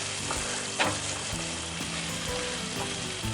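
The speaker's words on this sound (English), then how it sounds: "we're going to fry this rice a little bit raw" Raw short grain Valencia rice frying and being stirred in a Lodge carbon steel paella pan over an open fire, a close, steady sizzle with scraping stir strokes and no talking.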